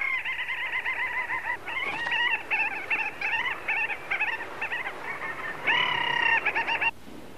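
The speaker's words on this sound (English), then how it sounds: "In summer, little auks nest in colonies on the inland cliffs and scree slopes." Little auks calling at a summer nesting colony on inland cliffs and scree slopes in western Svalbard, a steady chorus of repeated nasal chattering cries, fairly close and continuous throughout.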